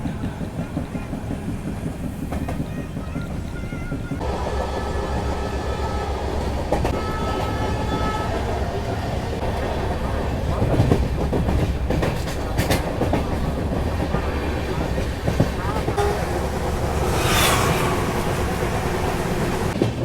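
A 15205 Chitrakoot Express sleeper-class train runs on rails, heard from inside as a steady loud rumble with rhythmic clickety-clack of wheels over joints and a few sharper metallic bangs, with no talking.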